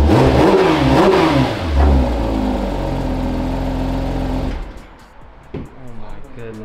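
A Porsche GT3 RS engine revs loud and close with a throaty rising roar as the car pulls away, then the sound drops off sharply and fades, with people talking excitedly over it.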